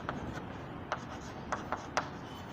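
Chalk or marker writing on a classroom board during a chemistry lesson: several short, scratchy strokes in an uneven rhythm, close and fairly faint, with no talk over them.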